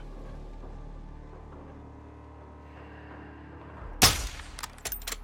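Gunfire in the video game Call of Duty: Modern Warfare 2: after a low ambient rumble, one sharp, loud close shot cracks out, followed by a few fainter shots or impacts.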